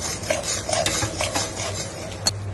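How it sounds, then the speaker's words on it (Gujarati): Butter sukhdi mixture stirred in a pan until bubbling, a steady soft scraping of a spoon with a faint sizzle underneath, close and continuous, with no talk. "આ રીતના હલાવતું રહેવાનું બબલ થાય ને ત્યાં સુધી."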